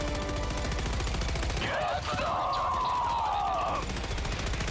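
Automatic gunfire from enemy Automaton weapons in Helldivers 2 rattles steadily throughout, loud and continuous, with a sharper burst and a sustained whining tone layered in midway.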